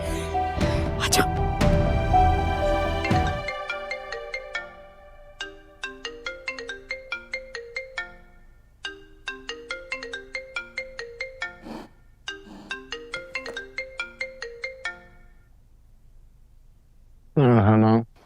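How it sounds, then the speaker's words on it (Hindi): An unanswered mobile phone ringtone in a drama plays loud and close, repeating a bright melodic phrase in several cycles after a dense musical opening, then ends with a short, loud burst. "कब से फोन कर रहा हूँ, फोन क्यों नहीं उठा रहा था?"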